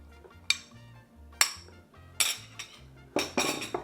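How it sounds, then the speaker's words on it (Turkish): A spoon stirs ground beef and Mexican beans in a pan, giving four sharp metallic clinks spaced apart over a low, steady background tone. "Şöyle bir karıştıracağım."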